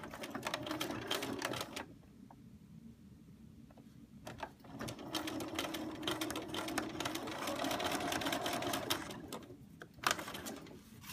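Sewing machine stitching a contoured waistband on a skirt, a close, fast mechanical whir in bursts with brief pauses between runs and a few light clicks, no talking.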